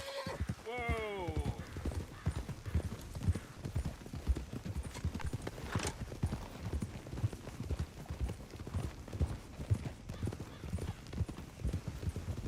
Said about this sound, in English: Mount up then, Morgan. Let's go then. Giddy up